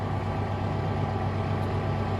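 Kubota M4-071 tractor with a Land Pride finish mower, its engine idling after the PTO is disengaged, a steady low rumbling drone, close and even, with no talk.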